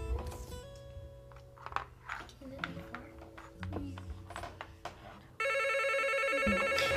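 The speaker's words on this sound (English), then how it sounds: "Don't answer the phone." A telephone rings in a documentary scene set in a video arcade, its repeated electronic tone cutting in near the end over arcade-game bleeps, music and voices.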